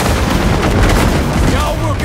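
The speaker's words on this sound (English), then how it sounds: "An explosion ought to get him attention." Explosion in the video game Maneater, a loud, dense blast of booming, crackling noise that fills the whole two seconds at steady strength, with a faint voice audible underneath.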